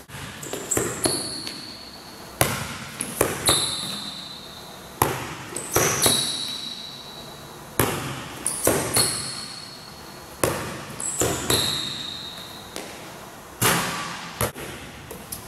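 A basketball bounces on a hard court in irregular dribbles with brief pauses, each thump echoing, with occasional sneaker squeaks in between.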